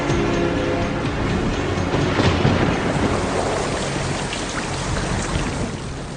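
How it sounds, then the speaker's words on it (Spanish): Steady, heavy rain falls and patters densely on a surface, a loud and constant hiss with no pauses, standing in for methane rain on Titan. "en este planeta la condensación hace que llueva metano"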